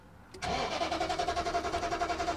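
Nissan Titan engine cranking over on the starter without firing, a steady pulsing whir that begins abruptly and keeps an even rhythm, close and moderately loud.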